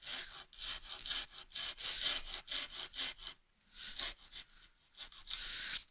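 Hand saw cutting straight down into wood to form the notch of a haunched mortise and tenon joint, a steady series of close rasping back-and-forth strokes, a brief pause, then more sawing.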